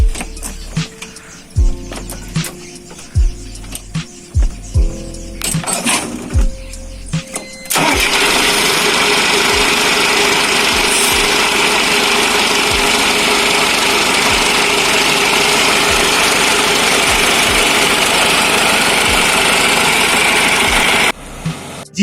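A tractor engine cranks with several short, loud attempts, then catches and settles into a steady, close, mechanical idle that runs for a long stretch before cutting off.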